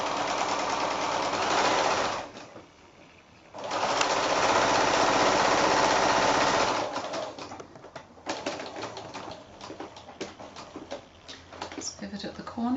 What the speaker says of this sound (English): I'm just going to sew all the way around with my 1/4 inch seam allowance